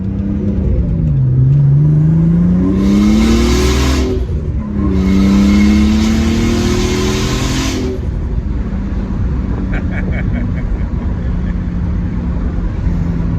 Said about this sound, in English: Go watch my RPMs. Yeah, you can rev it out.